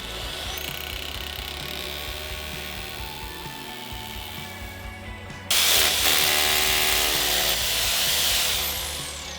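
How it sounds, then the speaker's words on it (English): A power drill whines steadily, then bites harder into brick with a louder, grinding roar that continues to the end. "Then I can drill my second hole here."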